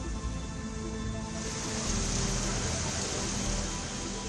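Heavy rain falls in Delhi as a dense, steady hiss and patter, loud and continuous across the whole stretch with no clear pauses.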